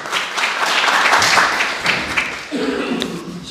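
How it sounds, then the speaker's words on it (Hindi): Applause from the audience at a mushaira and book inauguration as a poet is introduced, a burst of clapping that swells and then thins out, with a voice starting to speak near the end. "आपकी भरपूर तालियों में सैयद शान कानपुरी।"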